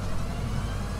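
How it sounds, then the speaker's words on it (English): A truck engine drones in a video game, a steady low rumble that holds unchanged for about a second with no voices over it. "I'm driving a truck."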